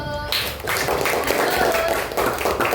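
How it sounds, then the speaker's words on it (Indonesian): Children in a classroom burst into quick, close, loud clapping together, a dense patter of hands with voices mixed in. "Oke, tepuk tangan dulu."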